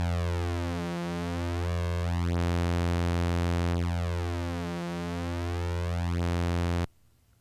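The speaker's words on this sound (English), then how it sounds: "as I adjust the pulse width knob, we're adjusting the tuning difference between those two oscillators" Two slightly detuned sawtooth oscillators on a Eurorack modular synth drone loud and steady, their beating phase sweeping slowly back and forth as the detune is adjusted, before cutting off abruptly near the end.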